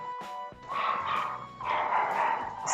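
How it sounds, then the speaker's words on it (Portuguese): A neighbour's dog throws a barking fit nearby, letting out a rapid run of high, yelping barks and whines that carry on loudly and almost without pause, with no one talking over them. "Esperar o cachorro da vizinha terminar de dar o chilique."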